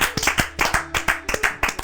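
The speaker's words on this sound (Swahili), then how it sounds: "hebu tujipigeni kama makofi" A small group of people claps hands in an uneven, lively rhythm, with sharp, close slaps repeating for a couple of seconds.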